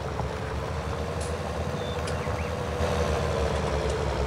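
A vehicle engine in Farming Simulator 19 runs with the throttle engaged, a steady close rumble that grows slightly louder toward the end, with faint electronic beeps above it.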